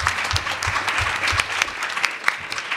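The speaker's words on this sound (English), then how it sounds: "A big round of applause," Audience applause at a trauma-informed schools conference panel, a steady wash of many hands clapping with a few louder claps standing out, moderately close and continuous for the whole stretch.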